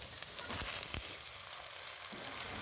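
Spinach tipped into a pan of potatoes fried with spices and turmeric, giving a bright continuous sizzle with a brief stirring rustle early on, close and steady without talk.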